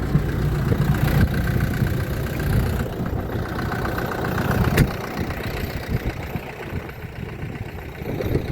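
A tractor engine idles steadily and loudly throughout in a windy field, a low rumbling drone with a brief sharper knock partway through.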